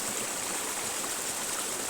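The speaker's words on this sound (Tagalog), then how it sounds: "Kasi na kung maingayang sapa tol ang tubig." A noisy flowing stream rushes steadily and loudly, a constant broadband wash of water with no pauses and no voices.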